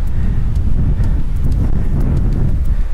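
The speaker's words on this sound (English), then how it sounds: "Hell of a lot windier." Strong wind buffets the microphone on the summit of Mount Direction in Tasmania, a loud, constant low rumble with gusty rustling and no voices.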